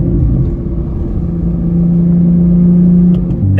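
Engine of a track-modified Porsche Cayman R drones steadily while driving, a loud low rumble that swells slightly near the end, with no talk over it.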